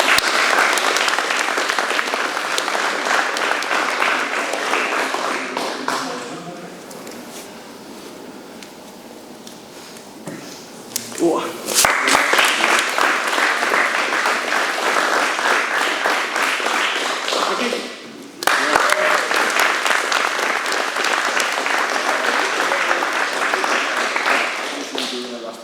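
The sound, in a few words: audience applause at a seminar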